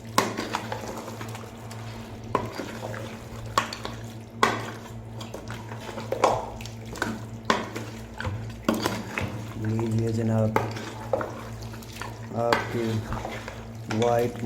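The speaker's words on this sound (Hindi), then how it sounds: "अभी मिर्च को जो है हमें 3 से 4 मिनट भून लेना है।" White mutton karahi seasoned with black pepper is stir-fried in a pot, with a steady sizzle broken by repeated scraping and clinking of a utensil. A voice talks at moderate volume throughout.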